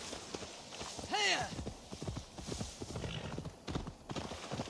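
Rapid hoofbeats clatter steadily while a horse in Assassin's Creed Valhalla lets out a sharp rising-and-falling whinny early on, with a voice speaking faintly in the background.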